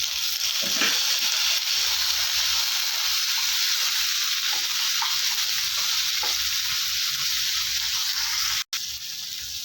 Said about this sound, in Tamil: இப்போ பாருங்கள் தக்காளி வதங்கிடுச்சு